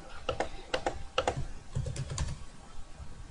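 Quick clicks on a computer keyboard as test payment data is typed into a checkout form, in short clustered bursts with brief pauses, close and crisp, with no talking.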